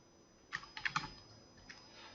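Several quick keystrokes clatter on a computer keyboard as a name is typed, a short close burst followed by a single later tap in an otherwise quiet room.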